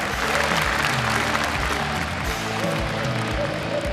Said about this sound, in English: Give a big hand to Cooler.